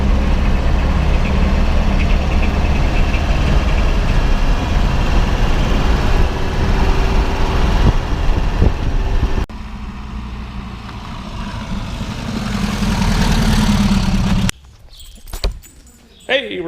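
A 1974 Volkswagen Thing cruising, its engine a steady low drone with road rumble that drops quieter partway through, swells again, then falls away into brief irregular noises.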